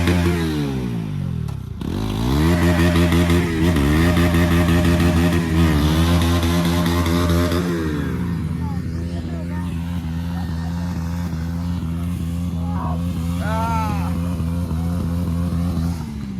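Off-road motorcycle engine revving hard with rising and falling pitch sweeps through gear changes, then settling into a rough, loud burnout idle with clattering, close to the microphone.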